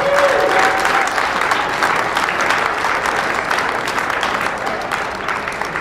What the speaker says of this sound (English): If you did, let your stars know by your applause.